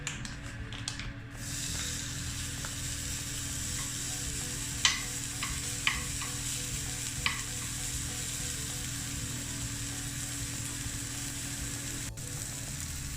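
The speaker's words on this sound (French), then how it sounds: "faites revenir vos lardons" Bacon lardons fry in a pan for pommes de terre Macaire, giving a steady, even sizzle throughout, with a few light utensil clicks in the middle and no talking.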